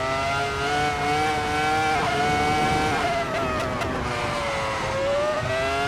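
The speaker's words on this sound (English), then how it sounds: "that V10 is just one of the best sounding engines ever." Schumacher's V10 Formula One-style racing engine screams at high revs, its pitch climbing and dipping continuously as the throttle works, loud and close with no talking.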